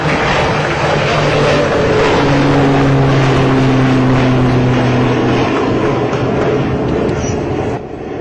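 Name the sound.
turboprop engine of a trainer aircraft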